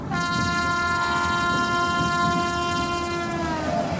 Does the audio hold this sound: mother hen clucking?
no